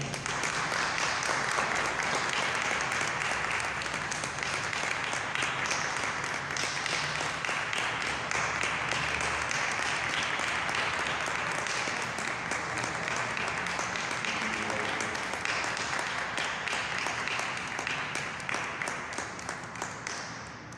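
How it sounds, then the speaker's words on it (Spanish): Sustained applause from an audience at a conference award presentation, dense and even throughout, with clapping fading slightly near the end. "Le damos un aplauso."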